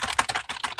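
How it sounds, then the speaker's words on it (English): Rapid, close clatter of keys being typed on a computer keyboard, a dense burst of uneven clicks. "There's typing."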